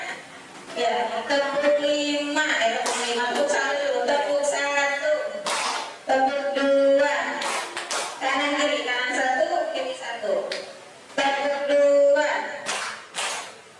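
A group of women clap hands in a counted rhythm game at a school activity, bursts of sharp claps in short patterned sets between spoken counting and instructions.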